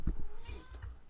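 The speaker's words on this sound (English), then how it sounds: "My cat wandered in here and she's meowing, so you might hear that, folks." A house cat meows indoors, a short pair of soft, close mews with a slight rising pitch, fairly quiet and alone.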